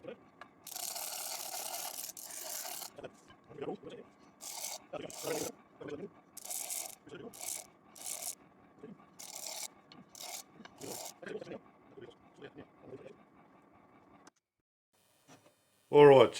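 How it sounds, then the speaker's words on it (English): Power sander touching up a wooden tack hammer handle in a workshop: a loud raspy whir in short bursts, starting and stopping repeatedly, with someone talking in between and a sharp knock at the end. "Now I'm fortunate enough or blessed enough to have one of these sanders."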